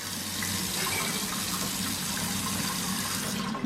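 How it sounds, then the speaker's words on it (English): Kitchen faucet running steadily into a sink, a constant close gush of water with no break, lasting a few seconds before cutting off at the end. "Turn off the water."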